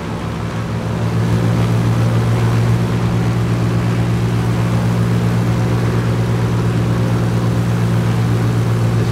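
Piaggio P.149D piston engine in Microsoft Flight Simulator 2020 drones steadily over Arnhem Land, a loud constant propeller hum with a throbbing low tone that swells slightly in the first second, then holds even.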